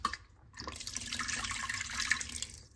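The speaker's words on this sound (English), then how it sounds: "you take the dish soap, you put a little layer," Water runs into a pan coated with a thin layer of dish soap, a faint, steady splashing pour that starts after a brief pause and carries on to the end.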